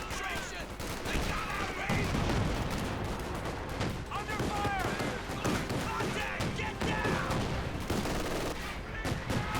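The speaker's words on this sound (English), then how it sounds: "Shots going off there on the flak half track." Gunfire in Company of Heroes 2 during a 2v2 match: dense bursts of shots and barrages from infantry and a flak half-track, crackling continuously and loudly, mixed with battle noise while a voice commentates over it.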